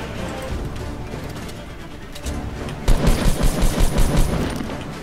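An attack submachine gun in Fortnite rattles off rapid bursts of automatic fire amid other in-game gunfire and explosions, with a dense, steady stretch of shots near the end and no one talking.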